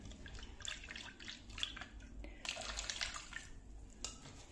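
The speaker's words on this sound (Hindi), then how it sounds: "तो इसको हम छान लेंगे अच्छे से, थोड़ा थोड़ा पानी डाल के इसके अंदर" Spiced golgappa pani water poured a little at a time through a sieve gives a quiet, continuous trickle and splash, interrupted by occasional small clinks of the strainer and bowl, heard close without speech.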